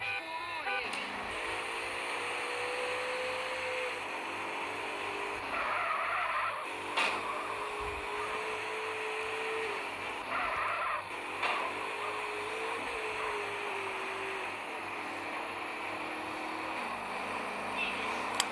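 A police car in GTA San Andreas, played on a Galaxy S20 phone, engine droning with repeated tire squeals and skids, game audio steady throughout with occasional bumps.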